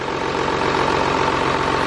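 Car engine running at idle after starting, a steady loud rumbling drone with an even low pulsing throb, close and alone.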